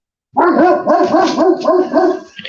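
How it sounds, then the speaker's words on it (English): Several dogs bark rapidly and insistently indoors at someone at the door, loud and close, a continuous overlapping volley of barks with a few yips. "My dogs always hear something. I know. I always hear them barking every time."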